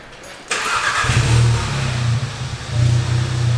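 Volkswagen MK7 GTI with an APR cat-back exhaust fires into a loud rev after a quiet moment, then holds a steady, booming engine drone that swells again near the end, close by and free of talk.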